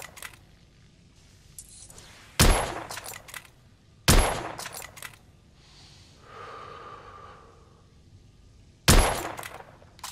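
A gun is test-fired in The Order: 1886, three sharp loud shots spaced several seconds apart, each with a short ringing tail, and quiet mechanical handling between them.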